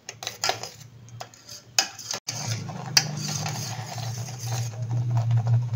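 A spoon stirs boiling mango pudding mixture in a pot, producing irregular metallic clinks and scrapes against the rim over a low, steady bubbling hum.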